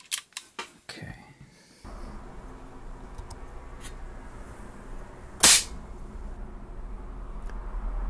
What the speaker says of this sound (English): Five shots with the JSBs.